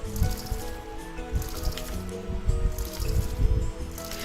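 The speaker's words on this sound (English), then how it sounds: "We need to water our plants." Plants are watered in the farming video game Wild Season, with soft repeated squishy, dripping splashes over background game music.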